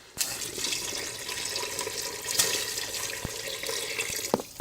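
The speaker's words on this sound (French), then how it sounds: "je vais ajouter de l'eau" Water pouring steadily into a cooking pot for Algerian chorba soup, a continuous close splashing rush with a few brief knocks, and no talking.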